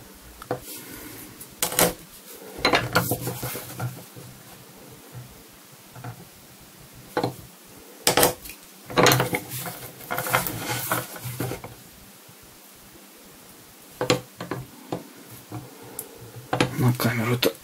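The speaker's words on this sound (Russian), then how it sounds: "нужно пробить с этой стороны под шов отверстие" Holes punched along the seam of a leather belt strap, one end fitted with a brass buckle: sharp, irregular tapping strikes come in short clusters separated by quiet gaps, close and moderately loud.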